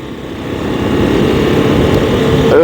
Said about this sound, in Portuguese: O som do motor acho que está muito abafado nesta moto.